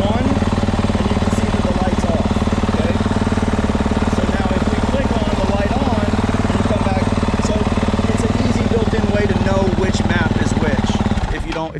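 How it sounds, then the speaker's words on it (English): A Yamaha motorcycle engine runs at a steady, loud idle with a rapid even mechanical chatter throughout, cutting off at the very end. "go ahead and start the bike, Chris"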